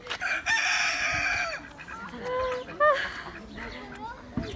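A rooster crows loudly and close by, a long drawn-out call followed by clucking fowl, with a person speaking briefly underneath, at the Altınköy open-air museum village near Ankara.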